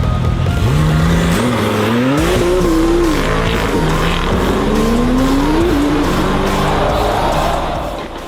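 A Porsche accelerating hard on a public road, its engine note rising and falling through the revs under loud, continuous tire squeal, close and steady throughout.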